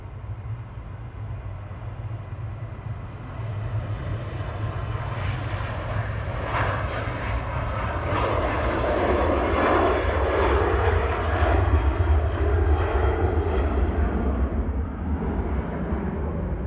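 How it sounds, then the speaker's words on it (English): A KLM Boeing 737-800 departing Manchester Airport for Amsterdam, its engines a broad, continuous roar that swells gradually toward the middle and stays strong, heard from a distance outdoors without any voices. "KLM 1028 to Amsterdam, departing there, PHHSE 737-800."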